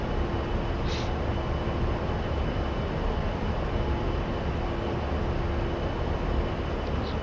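Constant roar of twin turbofan engines on an A-10C attack jet cruising level in a flight simulator, a steady, unbroken drone with a faint high tonal whine riding on top.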